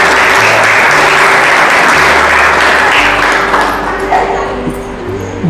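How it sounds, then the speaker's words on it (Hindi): A church congregation claps in applause during a worship service, a loud dense wash of hands that holds steady, then thins and fades toward the end. "ताली बजाकर प्रभु की महिमा करें।"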